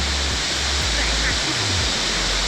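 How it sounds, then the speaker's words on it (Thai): A waterfall in Si Sawat, Thailand, roars in a loud, close, unbroken rush of white water that holds steady from start to finish. "ถึงน้ำตกกันแล้ว"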